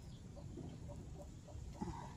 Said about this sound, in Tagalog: Naku, naandyan na yung inahing manok.